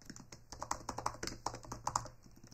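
Quick, uneven clicks come from a computer keyboard as someone types a short label into a spreadsheet. The keystrokes are close and crisp, arriving in short bursts with brief pauses, and no one speaks.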